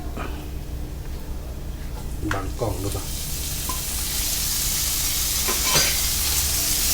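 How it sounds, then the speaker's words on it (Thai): Minced pork stir-fries with golden garlic in a wok, producing a steady loud sizzle that grows stronger over time, broken by a few metallic scrapes and clanks of the spatula. "ลงไปผัดรวนด้วยกันครับผม ให้หมูนี่สุกขึ้นมาสักหน่อยนะครับ"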